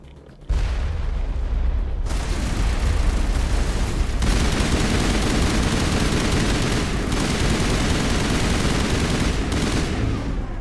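Rockets firing and exploding in the video game Mass Effect: a sudden loud onset into a dense, sustained barrage of booms and rapid gunfire-like blasts that continues steadily throughout, without talk.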